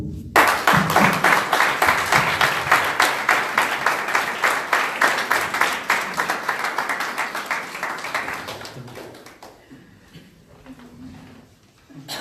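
A crowd claps steadily and loudly at a start-up competition final, the applause thinning and fading out over several seconds.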